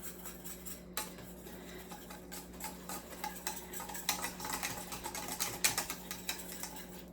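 A mixture for pastitsio being stirred in a pot, with a spoon scraping and clinking against the metal in an irregular, quickening rhythm, close by and moderately loud with no talking.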